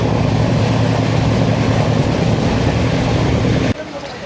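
A train running toward Siliguri Junction, with a steady loud rumble and hum of the wheels and carriage that continues throughout and drops off abruptly near the end.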